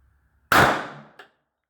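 A single sharp report from a Taurus GX4 pistol firing PMC Bronze ammunition, loud and close, with a decaying ring and a faint metallic tick just after, otherwise silent.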